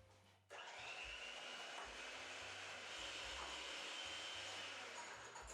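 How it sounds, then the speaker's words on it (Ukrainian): An electric mixer whips four egg whites with a pinch of salt toward stiff peaks for a caramel apple cake, a steady loud whirring drone that starts abruptly after a brief pause and runs unbroken, with no talking. "збиваю білки до стоячих піків"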